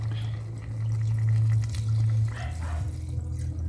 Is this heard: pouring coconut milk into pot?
yes